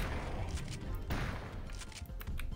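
Repeated gunfire in the Turok 2 game, a dense run of rapid shots with short sharp cracks over a steady rumble, quiet and continuous.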